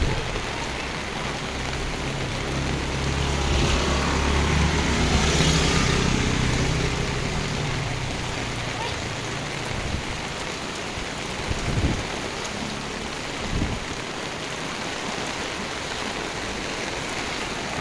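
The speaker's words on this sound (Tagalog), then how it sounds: "Here comes the strong rain." Strong rain pours steadily in the early morning as people head toward a jeepney terminal, a broad continuous wash of falling water that swells in the middle and holds loud and near throughout.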